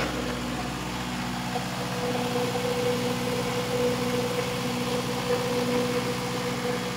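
A Cummins diesel engine drives an electric generator at a steady idle, giving a continuous close hum and rumble with a constant mechanical drone and no talking.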